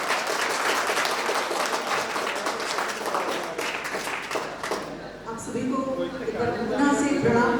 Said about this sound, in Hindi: तालियों से जोरदार साथ।